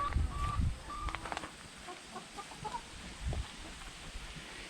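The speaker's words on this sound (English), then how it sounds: "And this is my old chickens" Old laying hens cluck softly in short scattered calls on a homestead, a little distant, over a low ambient background.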